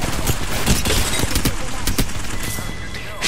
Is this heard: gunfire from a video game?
yes